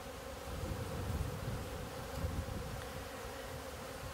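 Half a cup of honey bees buzz inside a closed cup during a varroa mite ether roll test, making a steady close droning hum with slight swells in loudness and no voices.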